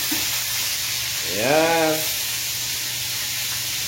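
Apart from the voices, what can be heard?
fish frying in a pan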